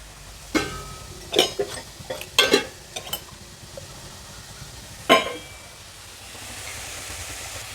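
Salted chopped onions stirred in a pan for a Kerala-style channa masala, with several sharp scraping clatters of a spoon against the pan and a soft sizzle rising at the end, no voices.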